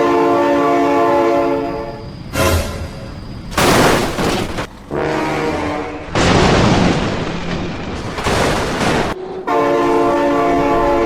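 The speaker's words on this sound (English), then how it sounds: "Oh my god, train!" In the BeamNG driving game a train rushes past with a loud sustained horn, interrupted by bursts of roaring, rattling wagon noise, close and dominant throughout.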